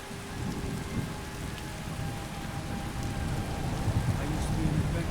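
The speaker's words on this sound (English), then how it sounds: "it's really raining outside now" Steady heavy rain and low thunder rumble in Skyrim, a dense continuous wash that swells slightly toward the end, with no voices over it.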